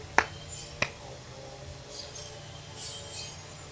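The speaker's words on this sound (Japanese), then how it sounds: "二礼二拍手" Two sharp hand claps ring out close together near the start at a Shinto shrine, part of a two-bow, two-clap prayer, followed by quiet room tone with faint shuffling.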